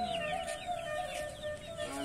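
Chickens at a small farm coop, steady overlapping clucks and occasional crowing in the background, fairly faint and continuous with no talk over them.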